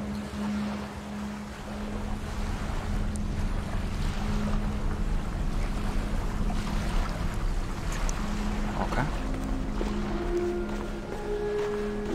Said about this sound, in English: On the boat to cross the lake.